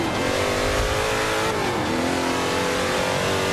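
A three-gear car in the video game Forza 5 accelerates hard, its engine revving loudly and climbing in pitch with a brief dip around a shift, heard alone without talk.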